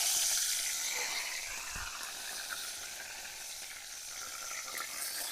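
Mustard seeds and curry leaves sizzle and crackle in hot oil in a village kitchen, a steady bright frying hiss with a few louder pops early on, close and alone.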